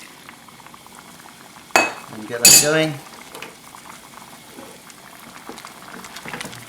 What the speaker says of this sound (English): At this point, get your stock, add your stock.